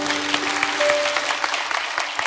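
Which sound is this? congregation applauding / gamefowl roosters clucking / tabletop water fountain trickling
congregation applauding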